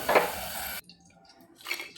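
A utensil clatters and scrapes against a frying pan as freshly fried potato french fries are lifted out of the oil: a loud, busy burst that stops abruptly, then quiet until a second shorter clatter.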